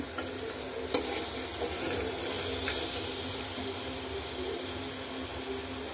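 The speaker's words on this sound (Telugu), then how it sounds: "చూడండి వేగుతుంది." Black-eyed peas and raw banana frying in a pan, a steady close sizzle and hiss with an occasional stir or clink, continuous throughout without talk.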